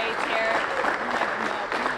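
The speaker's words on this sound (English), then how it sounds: "I think we can get one more round of applause and celebration from your teammates here." An audience at a football awards show applauds warmly, with a dense, sustained round of clapping and some cheering that carries steadily through the whole moment, close and full.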